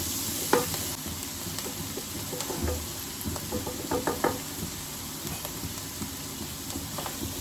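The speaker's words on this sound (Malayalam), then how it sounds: "ഇത് നന്നായിട്ടൊന്ന് വഴറ്റാം." Ingredients with ginger-garlic paste and salt being sautéed in a pan for mutton curry, a constant sizzle under scattered spoon knocks and scraping strokes against the pan, close and without talk.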